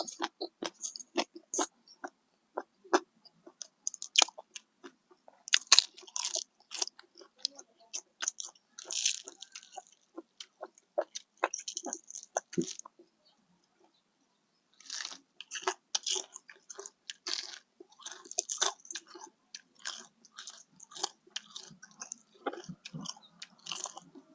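Someone bites into and chews crispy fried chicken wings close to the microphone, with loud crunchy bites and chewing in irregular bursts and a short pause midway, then more crunching.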